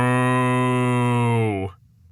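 A human voice imitates a cow's moo, one long, harmonically rich, sustained low call held for about a second and a half before cutting off.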